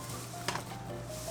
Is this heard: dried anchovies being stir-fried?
yes